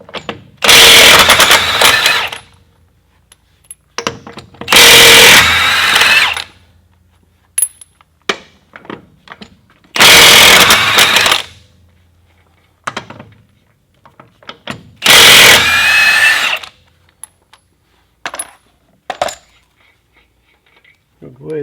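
A Milwaukee M18 1-inch cordless impact wrench runs on anti-seize-coated fasteners in four loud, rattling hammering bursts of about two seconds each. Pauses between bursts carry small metallic clinks and handling noises.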